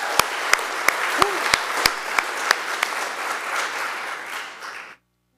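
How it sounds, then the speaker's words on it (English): A graduation audience applauds a speaker being welcomed, a steady wash of clapping with several sharp, distinct claps standing out near the front, then the applause cuts off abruptly. "Can we give him a round of applause?"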